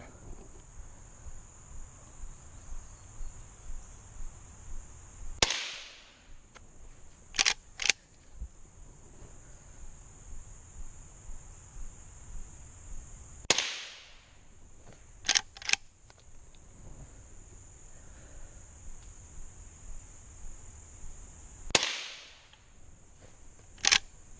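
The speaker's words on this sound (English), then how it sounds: "For another round, here we go, another 5-shot group." A Henry .22 classic lever action rifle fires while being sighted in: three sharp, fairly quiet shots spaced several seconds apart, each followed by quick lever-action clicks, over a steady outdoor insect-like buzz.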